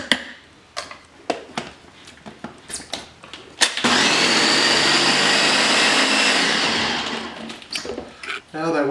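A food processor whirs loudly and steadily for a few seconds, blending a chickpea falafel mixture. Before it starts and after it stops, sharp knocks and clatter are heard, and someone speaks nearby.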